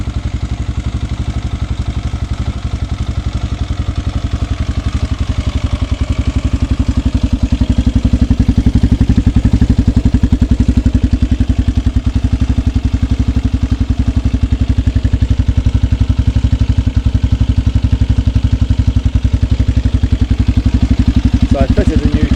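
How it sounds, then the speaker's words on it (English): A Suzuki DRZ250 dirt bike engine, freshly fitted with a new carburetor, idles steadily with a low, even throb close by, holding a constant level for the whole stretch with no revving. "Drz250 project bike ticking over quite nicely here"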